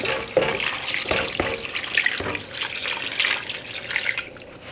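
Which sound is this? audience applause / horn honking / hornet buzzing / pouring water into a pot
pouring water into a pot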